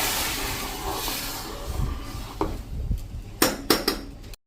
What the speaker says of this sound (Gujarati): અને હવે આને આપણે આ રીતે હલાવી લેશું